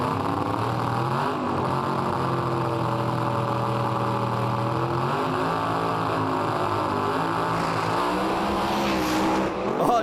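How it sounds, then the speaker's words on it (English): Drag race car holding raised revs at the start line with a steady, loud engine drone that shifts pitch slightly, heavy and continuous throughout with a brief swell near the end. "You'll start bringing the revs up, slowly let go of the clutch and edge the car in the stage"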